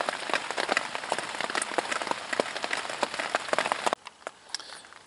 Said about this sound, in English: There is no place cozier than a dry tent in the pouring rain.